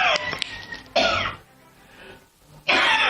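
A person coughs in a few separate harsh bursts, loud and close, with quiet pauses between them and no talking.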